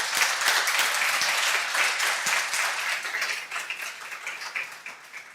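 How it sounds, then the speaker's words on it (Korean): A church congregation applauds together in a steady, dense burst of clapping that fills the room and tapers slightly toward the end, with no talking over it. "다시 한번 하나님께 영광의 박수 올려드리겠습니다"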